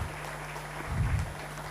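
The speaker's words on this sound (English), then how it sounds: "I think we can do better with clapping for the honorable ministers" Brief, fairly soft applause from an audience at a formal event honouring ministers, a short ripple of clapping over a low steady hum.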